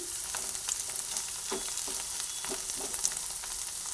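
Ingredients for puffed-rice chops fry in a pan after a sprinkle of salt, a steady close sizzle broken by several soft scraping stirs, with no talking.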